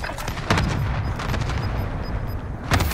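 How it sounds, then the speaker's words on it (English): Cluster strike landing in a military shooter video game, a burst of loud booming explosions and crackling blasts rolling continuously for about two seconds, with a fresh heavy impact near the end. "Cluster strike away."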